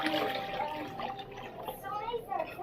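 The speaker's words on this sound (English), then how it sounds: "And then some warm water." Warm water is poured, producing a light trickling and splashing that runs beneath someone talking.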